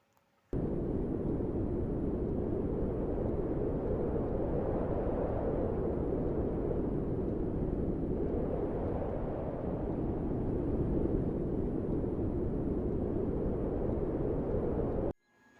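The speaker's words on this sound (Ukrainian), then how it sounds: "це вітер." Steady roaring wind blows for about fifteen seconds, a dense low rumble with gusty surges, starting and stopping abruptly.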